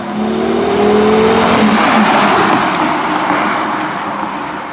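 Porsche Carrera GT sports car driving hard, its loud engine note rising and falling steadily over nearly five seconds, close and continuous with road and tire noise, no talking.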